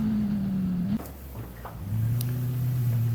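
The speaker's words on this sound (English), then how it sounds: "this should be full throttle all the way through here as well" A Radical race car held at full throttle on the Mallala circuit, its engine drone steady and close, dipping briefly around a gear change before climbing back to a sustained high-pitched roar.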